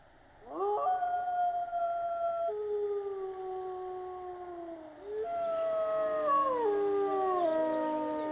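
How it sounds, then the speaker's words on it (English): Several wolves howl together in long, sliding, overlapping tones, rising and falling in a loud chorus with a brief dip midway before swelling again. "howling wolves can be heard 16 kilometers away"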